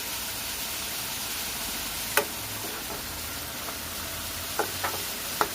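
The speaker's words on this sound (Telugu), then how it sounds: "ఆయిల్లో మంచిగా ఫ్రై అయిపోవాలన్నమాట చూడండి కరివేపాకు పచ్చిమిర్చి ఆనియన్స్ మంచి ఫ్రై అయిపోవాలి" Curry leaves, green chillies and onions fry in hot oil for an egg masala curry, a steady soft sizzle broken by a few sharp pops and crackles.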